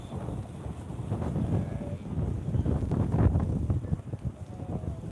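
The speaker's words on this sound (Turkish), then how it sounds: "Çok rüzgar var." Strong wind buffets the microphone in rough, low gusts that swell and fade outside a Başakşehir–Galatasaray football stadium before a match, with no other clear sounds.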